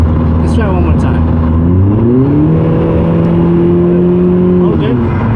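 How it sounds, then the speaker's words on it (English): Genesis Coupe 2.0T fitted with a Depo Racing downpipe exhaust accelerating hard, a loud droning engine note that climbs, steadies and then drops as the revs fall, with a few sharp pops near the start. "every time I put the pedal on the floor, it pops like crazy"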